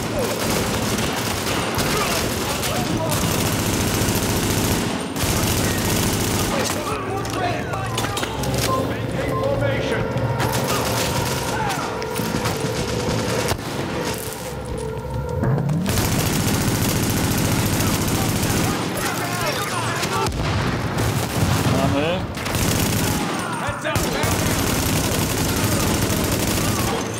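Gunfire in the video game The Division: sustained volleys of automatic shots with scattered bursts continue throughout, close and loud, with voices talking over the firefight.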